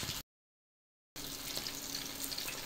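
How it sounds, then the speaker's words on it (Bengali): Beef chilli chips fry gently in oil over low heat, a soft steady bubbling sizzle after a brief silent gap, faint and close with no voices. "এই চিপসগুলো আমার লো হিটে ভেজে নিতে হবে"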